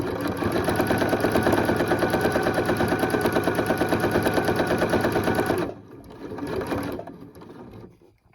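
A sewing machine doing free motion stitching hums in a loud, even, rapid needle rhythm for several seconds, stops, then runs again in a shorter burst before falling quiet.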